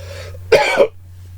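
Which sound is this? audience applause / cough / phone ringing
cough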